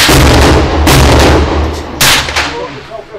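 Gunshots at a basic shooting course, loud close firearm reports with one booming shot at the start and sharp blasts near 0.9 and 2 seconds, each with ringing decay, and lighter pops between.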